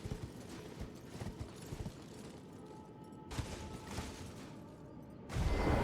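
Horse hooves clip-clop at a steady walking rhythm in the Elden Ring video game, moderately loud and close, with a louder burst of game noise near the end.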